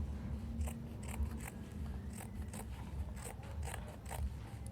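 Scrap material being snipped with scissors to form a strap for homemade toe-ring sandals, a series of short, crisp cutting snips at close range over a low steady background hum, with no talking.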